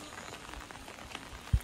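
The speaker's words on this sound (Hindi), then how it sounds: "दो दिन से लगातार बारिश हो रही है यहाँ पर" Steady rain falls on a hill village in Manipur as a soft, faint patter with scattered drops, ending in one low thump.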